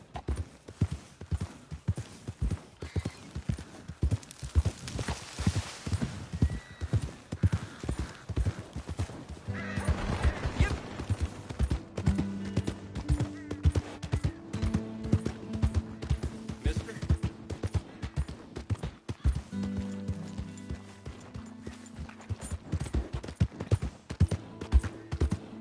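Horse hooves clip-clopping steadily in the Red Dead Redemption 2 video game, a continuous rhythmic gait with occasional whinnies and game music underneath.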